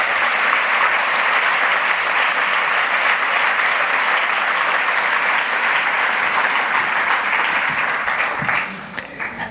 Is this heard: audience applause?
yes